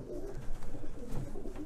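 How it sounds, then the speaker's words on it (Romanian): Racing pigeons coo softly in a fancier's loft in central Brussels, several low, throaty calls overlapping in a gentle, repeating rhythm, close by and fairly quiet, with no talking. "am văzut că are porumbei Stichel de la France la Bef, fiind și una din pasiunile mele acești porumbei"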